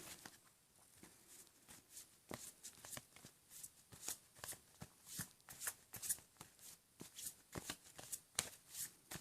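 Oracle cards are shuffled by hand close up, quiet rapid riffling and patting bursts repeating steadily for several seconds with no talk.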